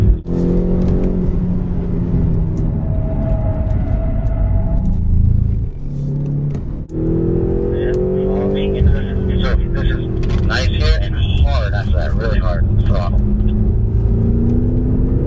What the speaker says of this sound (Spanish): El uso de los frenos muy muy duro para poder salir de la curva lo más derecho posible y entonces sí acelerar.